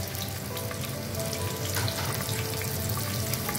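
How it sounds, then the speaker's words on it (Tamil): Onions sautéing in oil with green chillies and spices for paneer pulao, a steady crackling fry with bright popping spatters, close and continuous with no voices. "வெங்காயம் வந்து நல்லா வதங்கணும்,"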